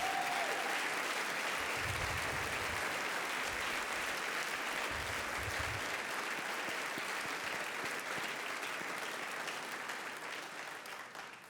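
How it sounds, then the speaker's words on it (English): Warm applause from the audience at a university hall of fame induction ceremony, a dense, steady wash of many hands clapping that runs the full length and tapers slightly toward the end. "If you could give them a warm round of applause as a thank you"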